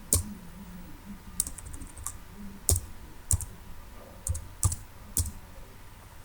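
Keys tapped on a computer keyboard while entering AutoCAD commands, a handful of crisp, separate clicks spread across a quiet room with no talking.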